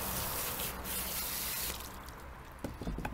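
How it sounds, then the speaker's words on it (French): Running water rinses something beneath a tap, a steady broadband wash that cuts off partway through, followed by a few drips and light splashes. "Donc on rince."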